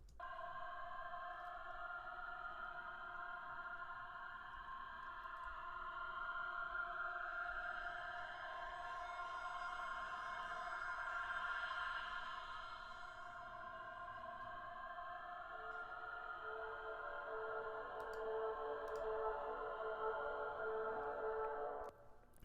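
Soft ambient atmosphere pads from an electronic music track: layered sustained synth tones drift in a continuous wash, swelling gently midway with a few faint higher chimes, quiet and spacious with no voice.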